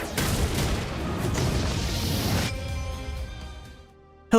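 A massive explosion from an ultimate attack in Seven Deadly Sins: Grand Cross roars as a loud, dense blast for about two and a half seconds, then drops to quiet lingering tones before a final sharp hit.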